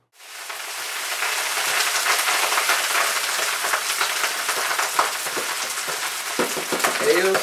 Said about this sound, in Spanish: Ellos pusieron el arroz a hervir en el aceite.